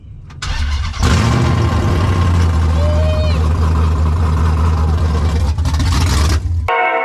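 A Dodge Charger from the 2006–2010 era, fitted with Hellcat injectors and a Walbro 450 fuel pump, cranks and fires, then runs at a loud, steady idle close by, with voices occasionally audible over the engine.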